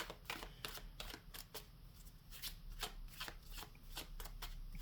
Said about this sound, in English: It's shuffled enough. This deck is nice and sticky.